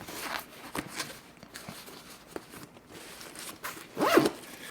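Water-protected zipper on a sling or messenger bag is pulled, a quick rasping zip rising near the end among soft handling rustles and light taps, close by and without speech.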